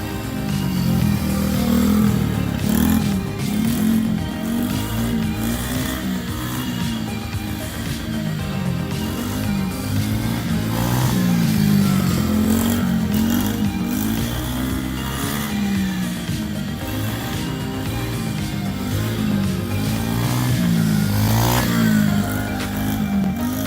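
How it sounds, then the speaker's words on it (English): A motorcycle ridden by a man named Bubba drones and revs continuously at fairly close range, its engine rising and falling in pitch over a steady rough rumble, with no voices. "You watching Bubba ride his motorcycle?"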